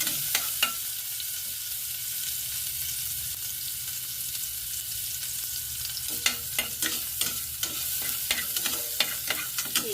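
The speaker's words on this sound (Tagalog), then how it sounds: "Gigisa na natin ang ating bawang." Garlic sautés in a pan with a soft, continuous sizzle, and near the end a run of sharp, close scraping clicks from stirring comes in over the frying.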